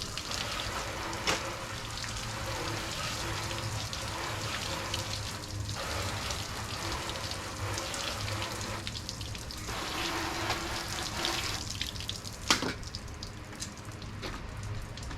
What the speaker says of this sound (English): I'm gonna rinse her off.